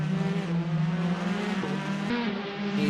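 Porsche race car engine in a racing video game at Sebring, a steady loud drone with tonal harmonics that shift pitch slightly as the car works through gears, continuous throughout.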